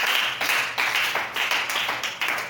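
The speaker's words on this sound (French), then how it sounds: "tu peux acclamer le roi des rois" A church congregation claps together in an even, rhythmic beat, close and fairly loud, with no voices standing out.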